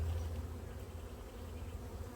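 Honey bees buzzing in flight around an opened hive during a spring inspection, a steady low drone that stays close and fairly quiet, with no voices over it.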